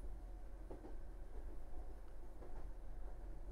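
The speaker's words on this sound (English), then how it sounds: "The train was still running." Train running in the video game Raging Loop, a steady low rumble of rolling wheels with faint rhythmic clacks, continuous and alone.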